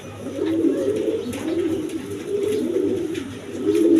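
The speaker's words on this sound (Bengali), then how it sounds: "এখানে এক পেয়ার গড় কবুতর আছে দেখেন কোয়ালিটি সম্পন্ন কবুতর" A pair of Gorra pigeons coo close by in a low, repeated, throaty rhythm, loud and clear with no talk over them.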